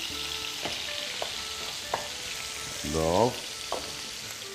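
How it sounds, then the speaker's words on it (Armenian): Food frying in a pot on the stove, a steady close sizzle with a few soft stirring clinks, a brief voice mid-way. "Մի 2 րոպե թողնենք տապակվի"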